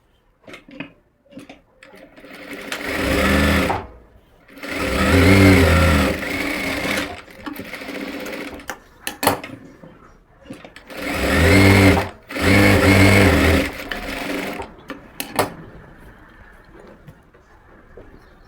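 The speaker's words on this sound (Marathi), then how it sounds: "ही आपल्याला बाजू शिवून घ्यायची आहे तिथल्या तिथे शिवून घेणार मी" Sewing machine stitching the side pocket of palazzo pants, several bursts of rapid mechanical whirring separated by short pauses, close and fairly loud, with no talking.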